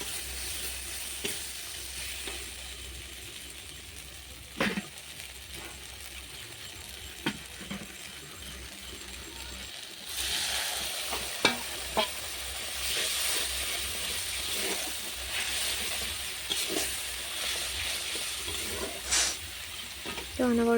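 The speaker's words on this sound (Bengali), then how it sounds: "তো অনবরত নাড়তে হবে, না হলে কড়াইতে এই মশলাটা লেগে যেতে পারে" Chili powder and turmeric with other spices sizzle and fry in a wok, a steady close hiss with occasional scrapes and taps from stirring, louder in the second half, with no talking.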